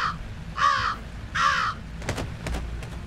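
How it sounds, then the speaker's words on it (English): A crow caws twice in Jenny LeClue, harsh and close, each call followed by a pause, then several quick clicking taps follow. "Be cautious around the crow."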